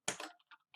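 A few computer keyboard keystrokes, a quick cluster of close clicks followed by two lighter, separate taps in a quiet room.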